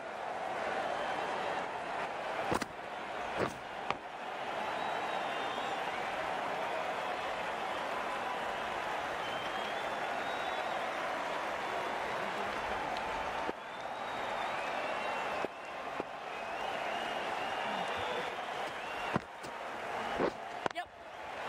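A cricket crowd applauds a boundary at a club match, with scattered clapping and cheering heard at a distance beneath a commentator's continuous talk and a few sharp knocks.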